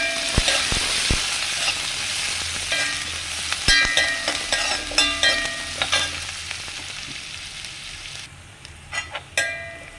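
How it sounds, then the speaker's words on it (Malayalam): Onion, garlic and curry leaves fry in hot coconut oil with a steady, close hiss, broken by sharp scraping stirs and spoon taps, quieter near the end. "വെളിച്ചെണ്ണ ചൂടായി അതിലേക്ക് ഉള്ളി വെളുത്തുള്ളി കറിവേപ്പില നമ്മൾ ഇട്ട് കൊടുത്തിട്ടുണ്ട്"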